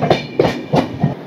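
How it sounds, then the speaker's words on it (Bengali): The 18005 Samaleswari Express runs from Howrah to Jagdalpur on a foggy stretch past Chakradharpur, its wheels giving a loud, close, rhythmic clickety-clack. "আমার জার্নি হচ্ছে 18005 সম্বলেশ্বরী এক্সপ্রেস"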